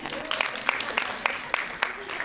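A sparse handful of audience claps at a company speaker talk, spaced roughly evenly over a couple of seconds, with a voice speaking through them.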